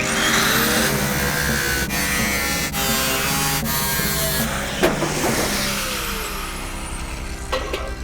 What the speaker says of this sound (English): but it started up, and now we just gotta set the timing, play with the carb a little bit